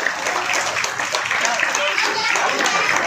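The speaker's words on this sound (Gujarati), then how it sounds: "આપણા ગ્રુપ વતી તાળીઓથી આ મહેમાનોનું હાર્દિક સ્વાગત" Applause greets guests at a Ganesh festival event, with crowd clapping spread steadily throughout under someone speaking over a sound system.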